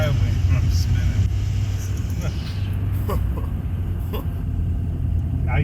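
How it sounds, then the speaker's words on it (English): A car with wheels spinning as it pulls out of an icy driveway during Indiana freezing rain, a steady low engine rumble and tire whir running continuously, with a person talking over it. "I just pulled out of my driveway and I'm spinning."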